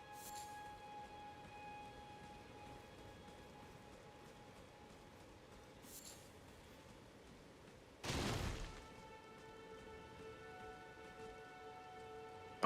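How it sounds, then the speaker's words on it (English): Steady rain falls in the open world of Elden Ring, a soft even hiss that carries on unbroken, with one brief louder burst of noise partway through and no voices. "It's raining."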